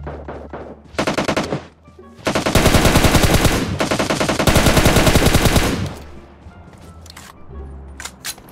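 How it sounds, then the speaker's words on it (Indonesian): Automatic gunfire from the PUBG Mobile video game: a short rattling burst, then two long, loud sustained volleys of rapid shots, fading into quieter background game sounds with a few faint clicks. "Ada yang nembakin gue dari jauh."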